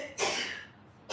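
One short, sharp sneeze bursts out close by, fading quickly, with a brief spoken word just after.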